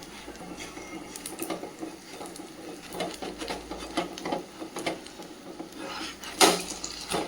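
A rava potato adai dosa flipped on a pan, with scattered clinks and scrapes of the spatula against the metal, ending in a sharper knock near the end.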